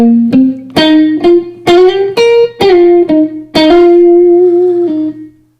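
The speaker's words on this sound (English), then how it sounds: "Mic 2 I have on my guitar amp," Electric guitar through a miked amp, notes picked one at a time in a loose melody with slides and bends, loud and clean, ending on a sustained note.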